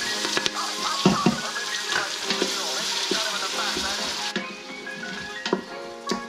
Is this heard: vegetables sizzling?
yes